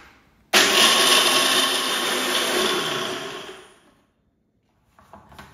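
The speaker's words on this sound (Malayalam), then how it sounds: "ഇതിലേക്ക് കുറച്ച് പാലും കൂടി ഒഴിച്ചിട്ട് നല്ലോണം മിക്സിയുടെ ജാറിൽ നല്ലോണം പീസ്റ്റായിട്ട് അരച്ചെടുക്കലാണ്." A kitchen mixer grinder blends soaked almonds with milk into a paste, starting abruptly with a loud whirring roar that holds for about three seconds, then winds down and stops, with faint clatter after.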